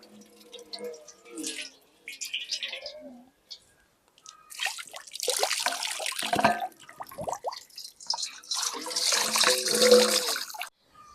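Water splashes and pours in bursts while rice is rinsed by hand in a kitchen, with intermittent sloshing and trickling up close and short pauses between rinses.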